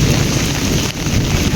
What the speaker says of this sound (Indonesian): Dan geluduknya masih ada teman-teman ya